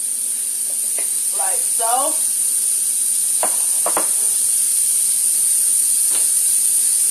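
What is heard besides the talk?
oil and butter sizzling in a pan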